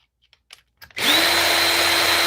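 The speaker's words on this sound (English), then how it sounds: "I recommend getting something like a drill like this, cordless drill." A cordless drill spins up after a few small clicks and handling taps, then whirs steadily and loudly while trimming rifle brass for 6.5 Creedmoor reloading, with no talk over it.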